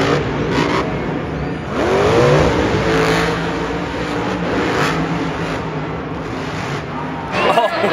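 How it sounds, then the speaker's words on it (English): Monster truck engine revving at a monster truck show, the roar rising and surging in bursts over crowd noise and a commentator's voice, with a loud final rev near the end. "his monster truck is called Son of a Digger"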